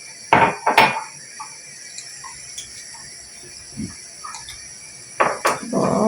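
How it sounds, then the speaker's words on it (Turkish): A large pot of Turkish aşure, made for a hundred people, stirred from the bottom up with a utensil, giving a few knocking and scraping clunks against the metal pot with quiet stretches between. "Şöyle bakın rengini versin diye karıştırıyorum. Alttan üste doğru."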